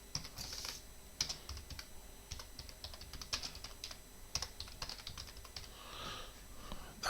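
Someone types at a computer keyboard while working on a database setup: a steady run of soft, close key clicks with irregular spacing, quiet and without speech.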